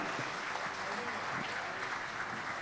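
Dense, steady applause from an audience welcoming a playback singer at a live music show, continuous clapping at even loudness throughout.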